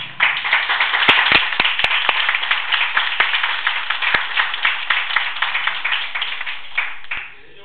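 Applause for fourth-year law students fills a room, with dense, steady clapping from a sizeable audience lasting about seven seconds before fading out.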